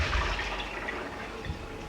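Water running into a kitchen sink while soaked almonds are drained and rinsed for almond milk, a steady splashing rush that swells near the start and again briefly later.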